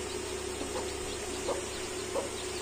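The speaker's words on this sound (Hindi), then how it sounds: "हमारे मुर्गी के बच्चे तो अभी 2 दिन के होंगे" Aseel hens with two-day-old chicks give soft, scattered clucks and faint peeps over a steady low hum, the calls brief and fairly quiet.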